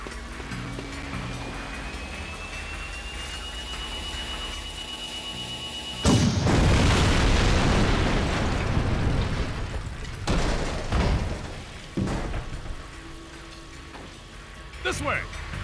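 A tank blown up in Jak 2: after a stretch of background game sounds, a loud sudden blast swells into a long roaring rumble, followed by a few more heavy booms and crashes.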